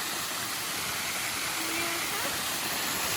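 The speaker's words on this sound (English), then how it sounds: "we can't even hear ourselves over the raging water." Roaring waterfall at Bluff Springs, New Mexico, a loud, steady broadband rush of falling water heard up close, with faint voices partly buried beneath it.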